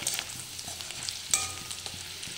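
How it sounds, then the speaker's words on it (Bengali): Oil sizzles and crackles steadily as pointed gourd fries in a wok, with occasional stirring scrapes and a brief metallic clink midway. "তো কড়াই আগে পটল ভাজছি"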